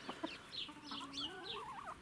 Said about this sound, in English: so I've got the 3 hens, and they're all out here